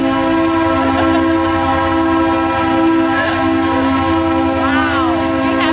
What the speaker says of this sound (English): Wow, we have a train.